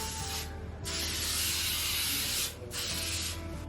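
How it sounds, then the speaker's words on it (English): Hairspray sprayed onto hair while finishing a sleek bun; two close hissing aerosol bursts, one short and one long, separated by brief pauses, quiet and with no talking. "but I'm just gonna put a little hairspray in."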